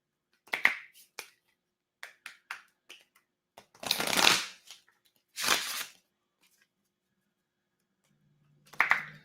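Tarot cards are shuffled in quick riffling bursts, with a couple of longer whooshing riffles and pauses between, close and crisp.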